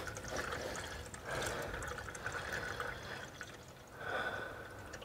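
Water is poured into the radiator of a 1957 Chevy Bel Air, a steady gurgling splash that surges twice, with no voices over it.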